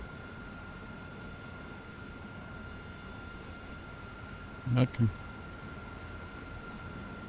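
Steady whine and rumble of an AV-8B Harrier jet engine idling after a cold start in the DCS flight simulator, a constant drone with a high tonal line, briefly interrupted near the end by a short spoken word.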